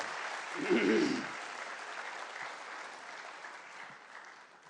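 Audience applause at an Urdu mushaira poetry gathering in Chandigarh, an All India event marking Independence Day, rising briefly over a low voice before settling into steady, moderately loud clapping from the crowd for the rest of the clip.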